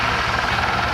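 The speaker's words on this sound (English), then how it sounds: "the sound of an Iroquois approaching are really iconic sounds" An Iroquois helicopter approaching at the RNZAF 75th Anniversary Airshow at Ohakea, New Zealand, in 2012, its rotor and engine giving a loud, steady, dense roar throughout the second.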